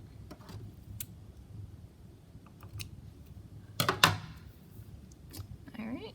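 Scissors snip through thread after a knot is tied on a handmade scrunchie, a sharp close click-and-rustle burst near the middle over quiet room noise and soft speech.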